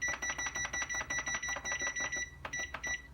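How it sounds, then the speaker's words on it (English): Setting a kitchen timer for brownies produces a rapid run of high electronic beeps and ticking clicks, evenly spaced and fairly close, pausing briefly before a few final beeps. "So we're gonna get the timer going here."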